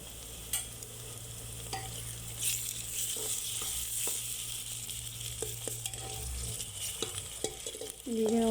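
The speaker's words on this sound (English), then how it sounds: "we are going to add the ginger garlic paste" Ginger garlic paste sizzles and fries in a pan for a mutton masala gravy, with a steady crackle and repeated scraping stirs and spoon knocks against the pan. It stays close and fairly loud throughout.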